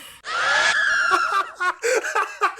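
A shrill, sustained scream from the video game The Legend of Zelda: Ocarina of Time, loud and close, holding for over a second before breaking into shorter choppy cries and gasping bursts, with no talk over it.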